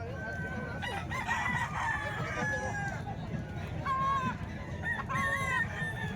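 A Gilmore hatch gamefowl rooster crows several times amid other clucking and crowing birds in a busy outdoor yard, the calls fairly near over a steady background murmur.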